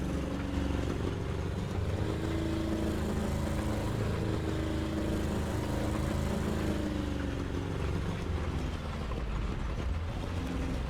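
Tank engines in War Thunder, Soviet vehicles in a one-on-one match, rumble loudly and steadily throughout, a constant low mechanical drone with a windy edge and no pauses.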